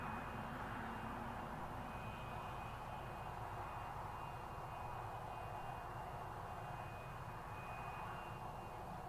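Embraer 145 regional jet at Newcastle airport, a steady broadband engine roar with a thin high whine, running continuously at moderate distance with no talk.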